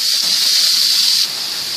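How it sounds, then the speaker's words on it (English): Meat sizzling in a hot iron frying pan with grapeseed oil, a steady bright frying hiss that carries on without pause and eases slightly toward the end, close and loud with no talking. "See that sizzling?"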